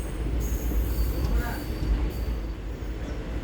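The Kannur Bengaluru Express rumbles steadily onto a station loop, a loud continuous roar of wheels and carriages with faint high squeals from the rails throughout.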